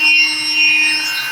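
A hand sander rubs with 220 to 400 grit sandpaper along the edge of a laminate countertop end cap, giving a steady, close scratchy rasp with a slight swell and ease over a brief stretch, and no voices.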